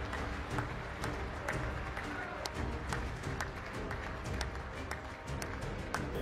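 Applause fills the US Congress chamber during Trump's address, a dense, steady patter of many hands clapping at a distance that continues throughout without a break.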